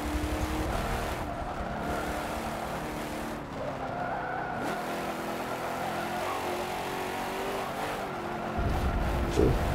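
Racing car engine with squealing tires during a simulated video game lap on a tuned setup, a steady loud engine drone with skidding tire noise throughout and a surge near the end.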